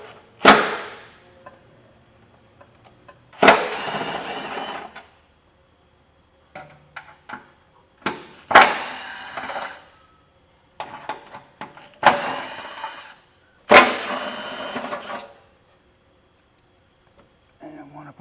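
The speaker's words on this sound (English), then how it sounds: "we'll need to remove the heat shield. There's 5 10mm bolts" Ratcheting and wrench clicks in short bursts as 10mm heat shield bolts come off a 2025 Subaru Forester during a Curt Class II trailer hitch install, separated by quiet gaps with occasional small metallic taps.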